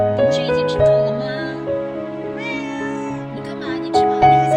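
A stray cat meows loudly and close by outside a door, a run of several drawn-out, wavering cries in quick succession with no pauses between them.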